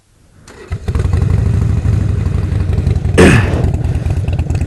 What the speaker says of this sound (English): You can definitely hear that rumble that you typically associate with the motorcycle, with the Harley Davidson.